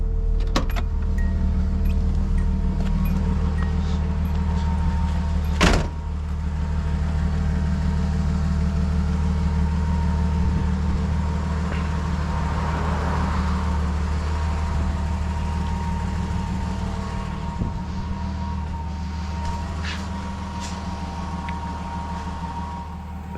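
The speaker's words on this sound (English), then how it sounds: "That was the cold start." A Z car's engine idles roughly after a cold start, a steady low throb with faint harmonics running continuously for over twenty seconds, one sharp click partway through, no voices.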